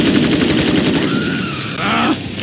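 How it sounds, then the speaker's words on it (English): Rapid bursts of rifle fire in a video game, a dense loud fusillade of closely spaced shots running without pause and without talk. "This rifle's too damn good."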